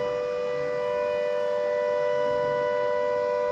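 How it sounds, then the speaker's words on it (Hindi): A siren holds a steady, piercing tone throughout, loud and continuous with no rise or fall, over faint background noise. "ये देखो भाई सायरन बज रहा है।"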